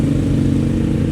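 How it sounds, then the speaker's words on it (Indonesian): Honda GL 200 motorcycle with its stock exhaust, a loud, close, steady low engine rumble idling or running, with no talk over it. "Suara knalpotnya cakep loh walaupun standar. Jujur, suara knalpotnya adem, bulat."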